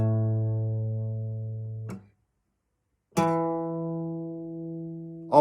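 Two guitar notes played together ring out, sustain and fade, then are struck again after a short silence, with a third pluck starting right at the end; no voices.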